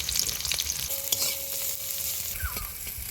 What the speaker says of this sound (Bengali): তেলটা গরম হয়ে গেছে, পেঁয়াজটা একটু আদা ভাজা করে নিব।